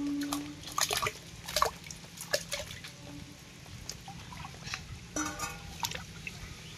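Chicken leg pieces being washed in water, with intermittent splashes, drips and trickles in bursts, fairly quiet and close.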